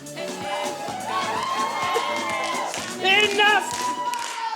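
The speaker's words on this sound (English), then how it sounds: "Enough, sorry to interrupt the clapping there." A pantomime audience claps in a steady rattling round of applause with some cheering mixed in, while voices carry over the top from the stage.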